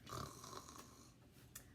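A narrator imitates a person snoring, giving one drawn-out, rasping snore followed by a brief snort, faint and alone without other voices.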